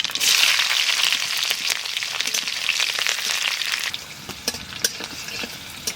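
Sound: black cumin seeds and slit green chillies sizzling in hot oil

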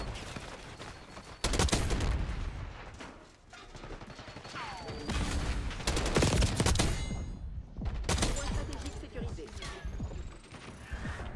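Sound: AK-47 gunfire in the video game Black Ops 6

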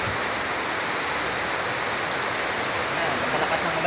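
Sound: heavy rain falling

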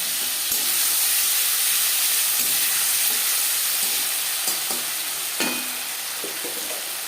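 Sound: frying panch phoron, bay leaf, ginger and chili paste

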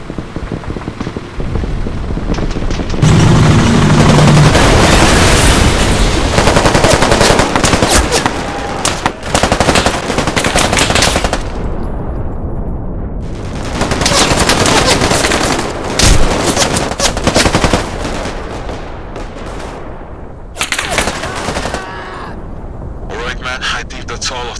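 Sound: gunfire in video game GTA 5

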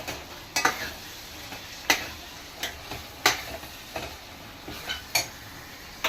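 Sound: frying dried fish in oil

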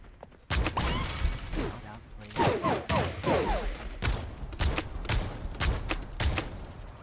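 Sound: revolver shots in video game Realm Royale

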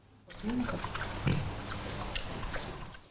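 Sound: piglet grunting

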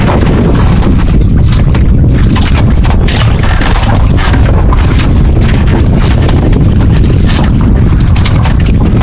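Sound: strong wind at sea

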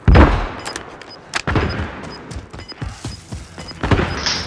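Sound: gunfire in a video game

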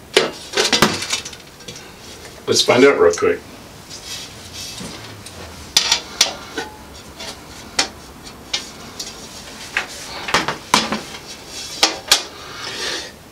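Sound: removing glass side panel from a PC case

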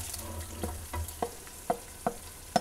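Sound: onions frying in oil

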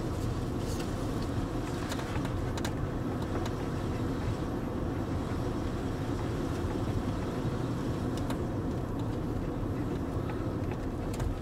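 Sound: Land Rover Range Rover L322 driving and accelerating

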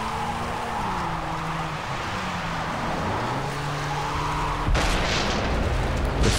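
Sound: explosion in video game Far Cry 3

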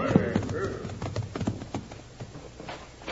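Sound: horses' hooves of approaching riders, radio drama effect

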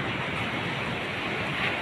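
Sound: ocean waves

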